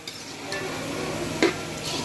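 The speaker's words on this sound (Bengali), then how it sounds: "পেঁয়াজটা প্রথমে আমি ভেজে নিব" Chopped onions frying in oil in a pan over a wood-fire stove, a steady close sizzle with an occasional scrape of stirring, cooking biryani for about fifty guests.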